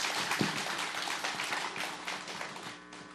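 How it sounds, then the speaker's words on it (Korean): Dense applause from a church congregation at an engagement celebration during a service, steady clapping filling the room for a few seconds, loud and close, with no voices rising above it. "큰 박수 한번 보내주시기 바라겠습니다"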